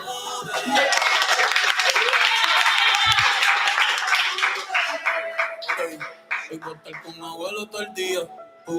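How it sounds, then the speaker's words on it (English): An open mic and slam poetry crowd claps, first a full wash of applause, then thinner rhythmic clapping that trails off as a speaker's voice takes over. "Keep clapping."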